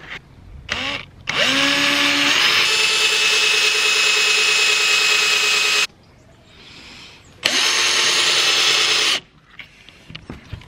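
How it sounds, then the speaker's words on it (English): A power drill with a 5mm bit whirs at full speed drilling holes in wood in two bursts, a long one and then a shorter one, with brief quiet gaps between. "So you just drill in like several holes"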